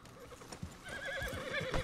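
Horse whinnies and clip-clopping hooves in the video game Red Dead Redemption 2, a short, close neigh with a wavering pitch rising over light hoof steps, no talking.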